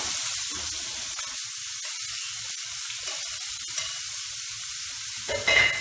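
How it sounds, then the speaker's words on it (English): Chopped onion sautés in hot oil in a pan, giving a steady, fairly quiet crackling sizzle with soft stirring scrapes, a brief louder burst near the end. "Just saute it."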